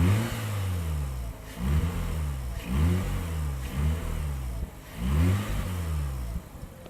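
Mazda RX-8 rotary engine, warmed up, revved repeatedly in short bursts: about five rising-and-falling swells over several seconds, close and fairly loud, with no talking.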